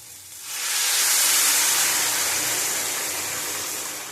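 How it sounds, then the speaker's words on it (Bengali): Water goes into a hot pan for vegetable dal, setting off a loud, sustained steaming hiss that swells quickly and then slowly fades. "দেব জল পরিমাণ মতন"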